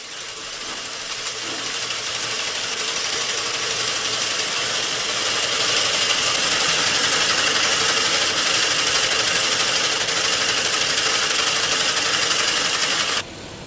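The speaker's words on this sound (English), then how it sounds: "Jimmy O'Reilly and Mary Hunt will use 7 or 8 cops to wind into a cone weighing about 1 kilo." A yarn winding machine in a woollen mill winds seven or eight cops onto a roughly one-kilo cone, producing a loud, continuous mechanical whir and rattle that holds steady and then cuts off near the end.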